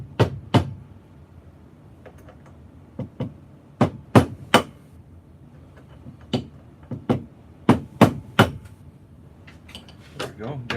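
Metal-on-brass taps from a brass punch drifting the sight out of an HK P30 pistol held in a vise, sharp close strikes in irregular bursts and pairs over roughly eleven seconds.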